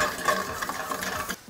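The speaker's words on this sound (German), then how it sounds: "So, die Zwiebel schön anschwenken" Chopped onion stirred and sautéing in olive oil with salt and pepper in a frying pan, giving a steady soft sizzle with scraping stir strokes throughout, close and moderately loud, no talking.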